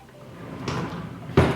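A makeup storage drawer slides open with a soft scrape, ending in a louder bump as it stops, close by and alone.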